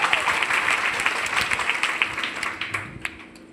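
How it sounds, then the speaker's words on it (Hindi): Loud applause from a group, brisk overlapping claps that thin out toward the end with a few scattered final claps. "जोरदार तालियां सर के लिए।"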